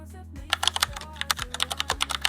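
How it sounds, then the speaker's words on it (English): Rapid keyboard typing, a quick irregular run of crisp key clicks, close and clear over a faint low hum. "Go over to sound effects and add your typing."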